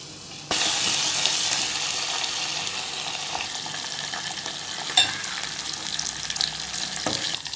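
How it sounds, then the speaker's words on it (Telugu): Mustard seeds, cumin and garlic hit hot oil for a tempering in a home kitchen, bursting into a loud, steady sizzle that crackles on for several seconds, close up and without speech. "ఇదొకటి తాలింపు వేస్తున్నాను ఇక్కడ ఆవాలు జీలకర్ర వెల్లుల్లి కొంచెం ఎక్కువ వేసుకోండి"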